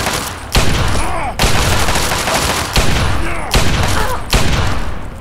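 Gunfire in Fallout 3, loud sustained bursts of shots packed close together and broken by a few short gaps, with no voices over it.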